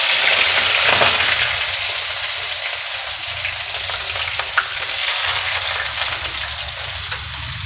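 Chopped onion hits hot oil already seasoned with cumin, for a masala koi fish dish, giving a loud, dense, continuous sizzle that eases a little after the first second and carries on with faint crackles.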